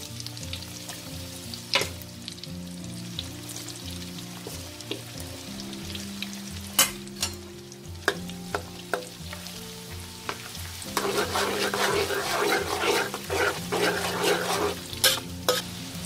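Pork large intestine frying in hot oil with garlic over medium heat, a steady close sizzle with scattered stirring clicks and scrapes, the crackle growing louder and denser in the second half, no voices.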